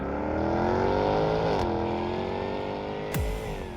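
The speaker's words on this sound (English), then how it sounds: "drive the 575 horsepower supercharged V8 Jaguar F-Type R" A supercharged 575-horsepower V8 in a Jaguar F-Type R drives steadily, with a rich multi-harmonic engine drone that holds near and loud. Pitch dips around the middle, then settles before a brief thump and a low swell near the end.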